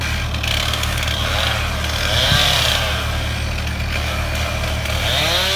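A lumberjack's chainsaw cutting a tree on a mountainside, a steady loud engine drone that rises briefly midway, with no talk.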